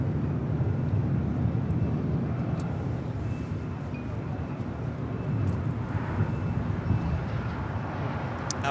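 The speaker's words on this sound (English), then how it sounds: "That is American 2965 departing to Charlotte on an A321" An American Airlines A321 airliner departs LAX with a broad, steady jet roar that holds at a moderate distance for several seconds, with no talk over it.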